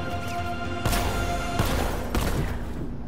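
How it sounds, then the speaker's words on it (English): A remote-operated 60mm tank cannon fires in the Batman: Arkham Knight video game: three heavy, booming blasts spaced a little under a second apart, loud and close, over a steady rumbling game soundscape. "Remote. 60mm cannon operational."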